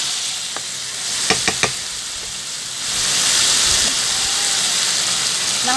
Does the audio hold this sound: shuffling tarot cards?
no